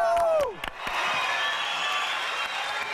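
Studio audience in a TV talent show hall applauds and cheers, a dense sustained wash of clapping with a few sharp claps at the start, steady and loud throughout.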